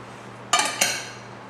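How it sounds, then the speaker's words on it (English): A spoon stirs macaroni salad with green onions in a bowl, producing two distinct clinks against the bowl's side over a quiet background. "we're going to give this a good stir"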